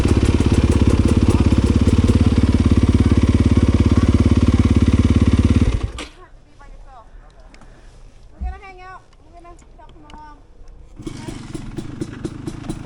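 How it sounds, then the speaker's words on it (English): A four-stroke motorcycle on a fall trail ride trundles with a loud, deep, steady engine drone that cuts out halfway. A quieter stretch with a voice and a brief thump follows before the engine's rumble returns near the end. "That's one thing I appreciate about this 4-stroke. It just trundles."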